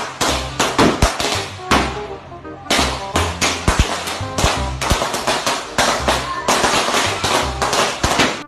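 A rapid string of firecrackers bursts close by, sharp cracks popping in dense irregular succession with one brief lull.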